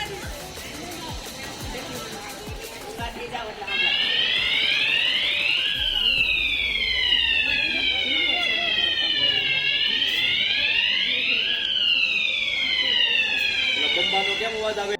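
A school fire alarm siren wails during a safety drill, starting abruptly after a few seconds of quieter background and then sweeping up and down loudly and continuously, with children's voices faintly beneath before it begins.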